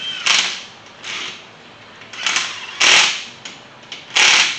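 A small lightweight 9.6-volt cordless impact gun running bolts down during a crankshaft installation, giving five short, harsh bursts separated by brief pauses, close and fairly loud.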